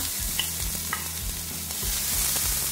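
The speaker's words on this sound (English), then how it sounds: "Alright, so this is one onion, diced up, goes into the pan." One diced onion sizzles and crackles steadily in a hot pan, with a low hum and occasional light scrapes of stirring underneath.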